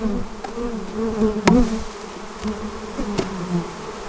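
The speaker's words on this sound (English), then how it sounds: "But these bees are angry." Angry honeybees swarm loudly around an opened beehive during fall feeding, a dense continuous buzz close to the listener with a few sharp knocks against equipment.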